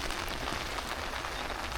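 Steady rain patters densely on surfaces outdoors in Aínsa at Easter, a continuous even hiss with no voices over it.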